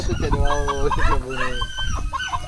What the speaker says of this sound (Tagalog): Nag-aaway yung mga manok.